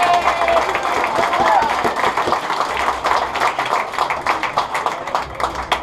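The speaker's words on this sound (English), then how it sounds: "So everybody give yourselves a round of applause just for making it." Crowd applause and cheering for car rally finishers, irregular clapping mixed with chatter and voices nearby.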